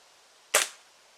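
A single sharp crack from a Crosman Tryo air rifle fired outdoors at raw eggs, one brief close shot that fades fast into quiet background.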